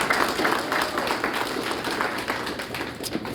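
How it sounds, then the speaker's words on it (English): Audience at a graduation completion ceremony applauds in a room, a steady wash of many hands clapping at moderate distance, continuing throughout without talk. "Give yourselves a round of applause, please."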